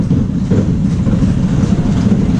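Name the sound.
Runaway Train roller coaster ride at Billing Aquadrome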